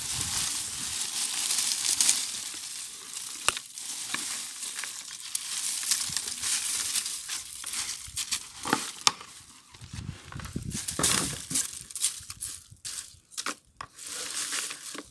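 Dry leaves and rose twigs being pressed down into a plant pot by hand, giving irregular crackling and crunching close up, with soft scrapes and pauses between presses.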